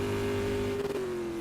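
125cc race car on a time-trial lap at the Summit Classic, its engine holding a steady high whine as it comes past nearby, with a slight wobble in pitch partway through.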